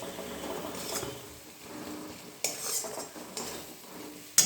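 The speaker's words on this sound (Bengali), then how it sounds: "এবার মশলাটা আমি ভালো করে কষিয়ে নেব" Spice masala of chilli and cumin powder being fried and stirred in oil in a pan for egg curry, a soft sizzle with metal spoon scraping and clinks against the pan, close and moderately quiet.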